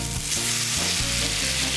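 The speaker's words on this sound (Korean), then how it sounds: "들리시나요? 이 지글거리는 소리." Jjajangmyeon sizzles on a stone plate heated to 250 degrees, a loud, continuous crackling hiss with low bubbling underneath, close and unbroken.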